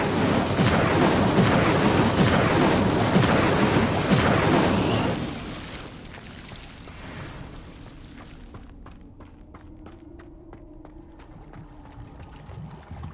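Incendio fire spell blasting in Hogwarts Legacy, a loud roaring burst of flame lasting several seconds, then fading into quieter crackles and scattered sharp ticks.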